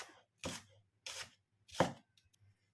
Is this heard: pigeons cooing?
no